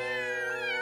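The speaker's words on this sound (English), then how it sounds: "What's this? 3 playful kittens." Cartoon kittens meow in a high, sustained, slightly wavering cry, loud and close, filling the whole short moment without talk.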